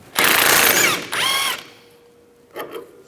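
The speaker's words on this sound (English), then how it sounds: "Use a 16mm socket. Take this nut off." An impact or power wrench with a 16mm socket spins a sway bar link nut off a 2007-2010 Mini Cooper in two close, loud whirring bursts, with a brief softer rattle of the nut following.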